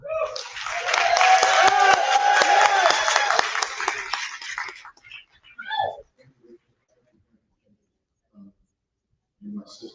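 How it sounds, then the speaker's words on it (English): An audience at a Nan convention bursts into loud, dense applause welcoming a speaker, sustained for several seconds before fading out into scattered sounds and a few brief voices. "I want us to give him a huge Nan resounding applause and welcome"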